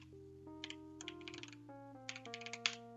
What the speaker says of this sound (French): si je tape localhost / commentaire